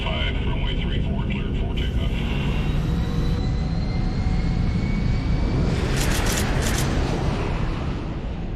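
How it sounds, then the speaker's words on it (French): An airliner's jet engines power up for takeoff, a loud broad roar with a rising whine that swells through the stretch while a narrator speaks over it. "L'avion est ravitaillé en carburant et autorisé à décoller."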